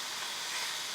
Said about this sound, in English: We just want to get it seared on the edge.